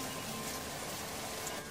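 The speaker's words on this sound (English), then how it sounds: "We have to go inside now since it is raining." Rain falling in an animated children's environmental studies lesson, a uniform broadband hiss that stays constant and moderately quiet throughout.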